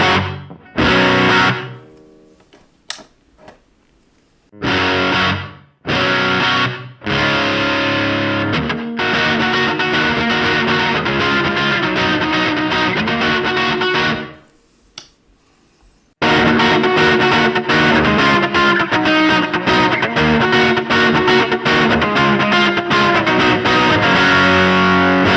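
An electric guitar plays through a Hungry Panda overdrive pedal from Scattered Abroad Guitar Works into a clean, open amp. Short distorted chord stabs and gaps come first, then long sustained overdriven strumming, loud and close.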